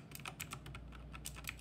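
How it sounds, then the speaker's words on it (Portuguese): Typing on a Razer BlackWidow Chroma mechanical keyboard, a quick irregular run of sharp clicky keystrokes, close and fairly quiet, with no talk. "E tá aqui meu super teclado. O Black Widow Chroma."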